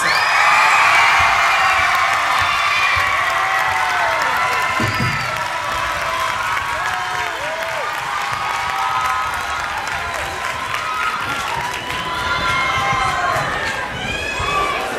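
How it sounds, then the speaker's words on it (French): Loud crowd applause with cheers and whoops at a youth beatbox battle, sustained clapping that fills the space and slowly tapers, with a voice over it. "on va tout de suite comptabiliser vos applaudissements"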